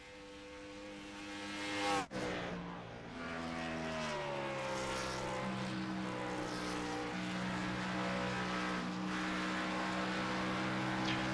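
On-board engine of the number 12 race car in a racing game, a sharp transient early then a sustained droning engine note climbing steadily in pitch, loud and close without speech.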